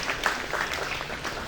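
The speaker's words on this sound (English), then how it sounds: "let's give Danielle a round of applause" A crowd at the El Valle community celebration gives a brief round of applause, a steady wash of clapping throughout with no voices standing out.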